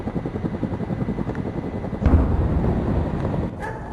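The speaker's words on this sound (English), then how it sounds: "The chopper's very close this time." A helicopter flies very close overhead with a loud, throbbing rotor drone that swells midway and stays heavy to the end, with no talking.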